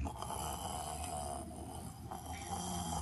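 A person imitating snoring makes a continuous, rough, rasping throat sound close to the microphone, with no pauses for breath.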